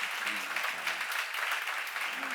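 Church seminar congregation applauding, a dense continuous roar of clapping from a large room of people, fairly distant, with faint voices briefly audible under it.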